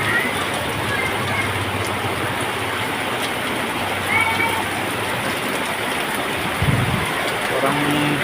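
Heavy afternoon rain pours steadily and loudly onto a flooded street, a dense continuous hiss with faint low rumbles and a brief thump near the end.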